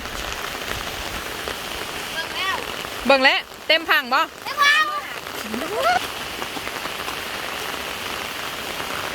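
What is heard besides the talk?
rain falling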